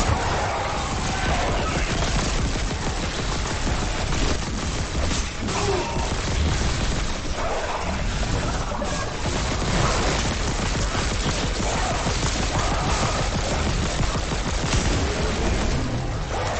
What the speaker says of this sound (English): Forgot about the grenade launcher mode.